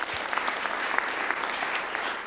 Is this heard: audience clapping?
yes